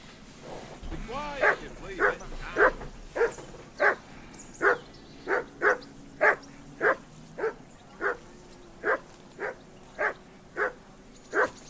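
A dog in the Kingdom Come Deliverance 2 video game barks repeatedly, about seventeen evenly spaced yaps over ambient outdoor game sound, opening with a brief rising whine.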